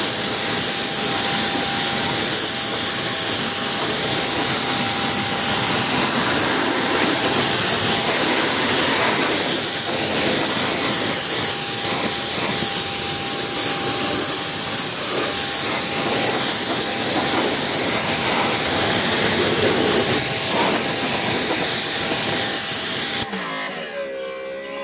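A Greenworks Pro 2700 PSI electric pressure washer runs with a loud, steady spraying hiss from start to finish, then cuts off abruptly near the end, with no voices.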